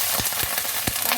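Garlic and shredded cabbage sauté in a hot pan for pork pata bihon, giving a steady close sizzle broken by a few soft stirring thumps.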